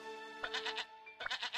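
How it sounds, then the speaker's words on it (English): Sheep in a BabyBus children's animal-park game give two short, bright, synthetic-sounding bleats in quick succession, fairly quiet against a faint steady background tone. "Sheep."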